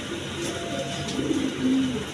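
A pair of high-flying Giribaz pigeons, nesting on eggs, give soft low coos close by, a few drawn-out calls over a faint steady background hum.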